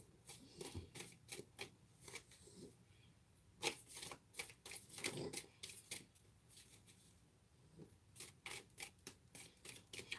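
Tarot cards being pulled and handled during a live full moon reading: soft, close papery rubs, slides and flicks in irregular clusters, quiet throughout with no talking.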